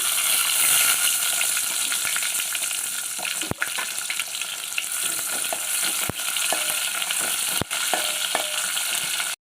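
Chopped onion and five garlic cloves fry in a pan for mild dal, giving a loud, continuous sizzle with a few sharp clicks from stirring.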